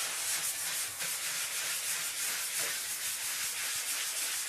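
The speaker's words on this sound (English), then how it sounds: "The best way to feather out the edges of your patch is to sand it in a circular motion." Hand sanding drywall patch edges in a circular motion to feather them, a steady close scratchy rubbing that runs continuously without pause and with no voices.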